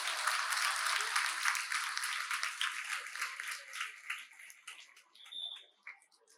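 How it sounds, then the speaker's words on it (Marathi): Audience at a school gathering in Pune applauding a school founder, dense clapping loud at first that thins and fades over several seconds into scattered claps, with a faint voice near the end. "जोरदार टाळ्या वाजवा त्यांच्यासाठी एकदा."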